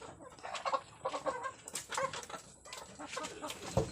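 Farm chickens clucking close by on a hillside farm, a busy run of short, overlapping clucks and squawks that continues steadily throughout.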